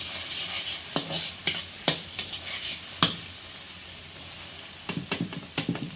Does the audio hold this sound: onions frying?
yes